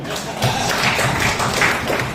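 An audience at a talk on child rights, child marriage and child abuse bursts into steady, dense applause that fills the whole stretch at an even loudness, with a murmur of voices beneath.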